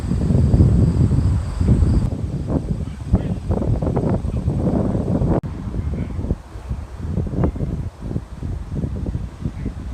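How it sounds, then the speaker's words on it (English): Strong wind buffets a microphone outdoors, with heavy low rumbling gusts that fill the first two seconds and then continue as choppier bursts, loud and close, with no clear talk. "The wind has really picked up in the past few minutes here, so I apologize if this gets noisy."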